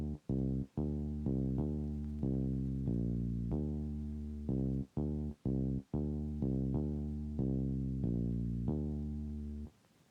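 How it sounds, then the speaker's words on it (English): A deep synth bass from an FL Studio beat plays a loud, repeated pattern of sustained low notes with short gaps between phrases, heard on its own. "First, I added this bass right here."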